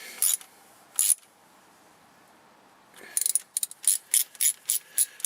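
A hand ratchet tightens the transmission pan bolts on a 1999 Mazda Protege automatic. There are a few isolated clicks, then a quick regular run of close, crisp ratcheting clicks.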